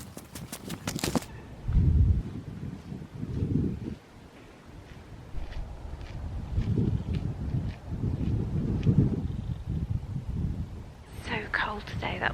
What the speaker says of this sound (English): The wind is a northerly and it's so cold.